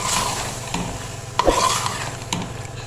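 Peas and potatoes stir-fried in masala for aloo matar chicken, a steady close scraping and rubbing of a spatula in the pan with a faint sizzle and a few sharper knocks.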